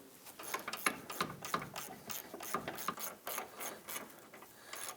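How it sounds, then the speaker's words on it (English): A ratchet wrench runs bolts into a rear control arm on a 2001-2009 Volvo S60, giving rapid repeated clicking strokes in quick rhythmic bursts, close and fairly quiet. "I'm going to go ahead and grab my wrench and run those in a little bit further."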